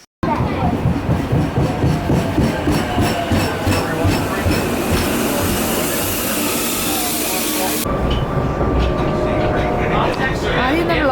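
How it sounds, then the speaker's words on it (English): A train pulling in with loud hissing, rumbling and clattering wheels, the roar continuing close by as people talk over it. "when the train arrived, the sound was so thrilling for the kids"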